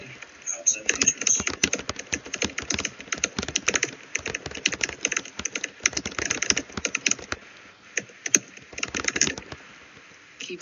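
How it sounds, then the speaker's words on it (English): Close computer keyboard typing: rapid, uneven bursts of clicking keys that run almost without pause, with a few brief gaps. "Keyboard sounds are making me insane."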